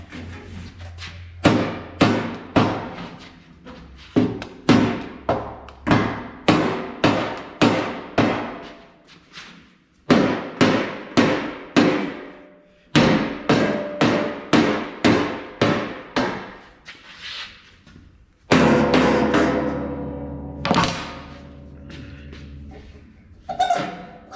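A heavy hammer strikes steel again and again in quick bursts, each ringing clang followed by short pauses, loud and close with no talking, while bending a part for a home fueling station.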